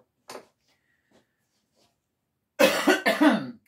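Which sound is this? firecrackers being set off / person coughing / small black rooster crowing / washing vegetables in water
person coughing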